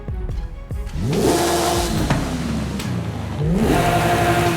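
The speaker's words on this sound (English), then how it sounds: "we'll go see what the exhaust sounds like before we put the turbo" A 2023 Porsche 911 Turbo S engine revs hard in a racing video game, its exhaust note rising and falling through several sharp throttle blips, loud and close.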